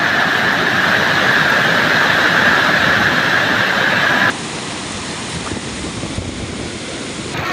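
Heavy roaring rush of the Courtallam waterfalls in severe flood after torrential rain, a dense continuous loud wash of water that drops to a slightly quieter but steady roar partway through, with no voices.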